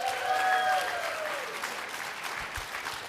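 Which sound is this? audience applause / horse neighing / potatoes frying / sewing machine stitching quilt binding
audience applause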